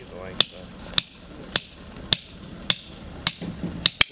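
Mallet strikes ring out in a steady series of about eight sharp blows, roughly every half second, while U.S. Marines set up a combat operations center; a voice talks briefly underneath.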